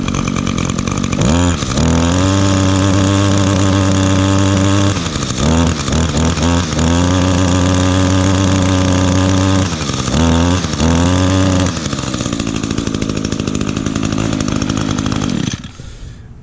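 A small two-stroke engine on Echo or Stihl outdoor power equipment starts and runs loudly, revving up and dropping to idle several times with a buzzing, raspy tone before cutting off.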